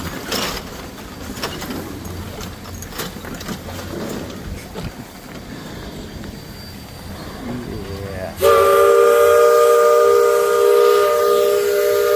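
Disneyland riverboat steam whistle on Tom Sawyer Island, a loud sustained multi-tone blast that suddenly cuts in after several seconds of outdoor crowd and ambient noise, continuing steadily to the end.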